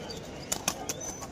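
Pigeons at the Beldanga market give a few quick wing flaps and rustles, three soft bursts in close succession over a low background murmur.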